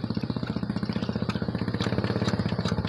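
A rice-field plough tractor engine, hand-cranked until it catches, chugs in a fast, steady, close-up rhythm of loud repeated pulses with no talk over it.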